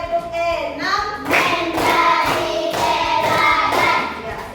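A classroom of children claps hands together in a morning lesson, bursts of sharp, fairly loud claps in a rhythmic counted pattern, with a few voices chanting at the start.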